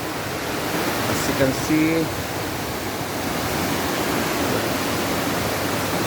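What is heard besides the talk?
running water at Hamogaway Falls waterfall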